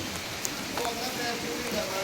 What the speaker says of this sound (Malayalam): നല്ല അതിശക്തമായ മഴയും കേട്ടോ